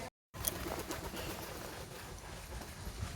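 Pigeons at a pigeon farm coo softly and rustle nearby, with a faint flutter of wings, over a low, steady background and no speech.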